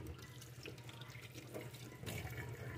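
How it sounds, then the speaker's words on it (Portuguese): Water runs steadily from a tap over limes being rinsed of dust in a sink, a continuous soft splashing that swells slightly toward the end, with no voices. "Passar uma água nos limãozinhos de poeira."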